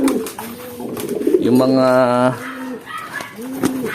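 Pigeons coo in a deep, rolling burst that swells and fades, with someone speaking briefly before and after it.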